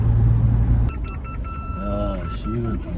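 Busy road traffic at the entrance to Bangkok's Chinatown, with a constant dense rumble of engines close by and a few short beeps and horn-like tones over it, while someone speaks.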